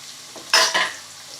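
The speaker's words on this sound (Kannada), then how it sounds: "3 ಗೆಡ್ಡೆ ಈರುಳ್ಳಿ ಸಣ್ಣಗೆ ಹಚ್ಕೊಂಡಿದ್ದೀನಿ, ಹಾಕ್ತಾಯಿದ್ದೀನಿ." Finely chopped onions, three of them, dropped into hot oil for a cauliflower egg bhurji, a sudden loud sizzle burst with a stir-scrape that fades back to a low crackle.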